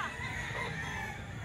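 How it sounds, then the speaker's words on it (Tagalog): A bullstag, a young gamecock, crows close by in a single sustained, strained call at a rooster grotto. "Bullstag na to mga boss."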